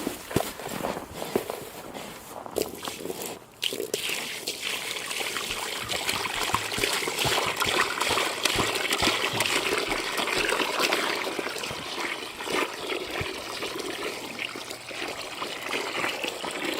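Water trickles and splashes continuously as it is poured, with some footsteps and shuffling movement nearby; no voices are heard.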